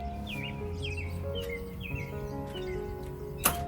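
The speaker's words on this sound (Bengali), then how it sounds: "কি সুন্দর পাখি ডাকছে সকালবেলায়" Morning birdsong sounds at a moderate distance, short repeated chirps and whistled calls over a low background hum, with a brief sharp knock near the end.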